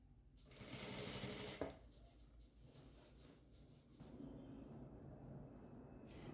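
A sewing machine stitches the edge of a sofa cover during an old-sofa reupholstery, a close, fast whirring run that stops briefly then resumes, mostly alone with little talk.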